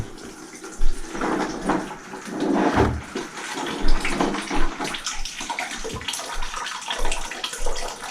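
Water drains out of household plumbing at the lowest point of a house, giving a continuous splashing, gurgling rush with uneven surges, close and fairly loud.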